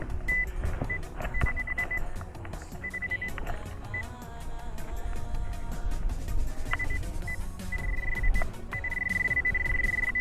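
A Nokta Makro Simplex metal detector sweeps a beach, sounding repeated short electronic beeps and tones over a low rumble of wind and surf.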